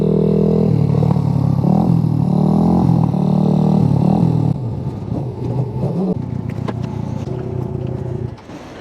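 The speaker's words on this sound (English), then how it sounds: "That overrun sounds absolutely awesome." Suzuki GN125 motorcycle engine on overrun, a loud steady low rumble with wavering revs that drop and settle partway through, running alone close by.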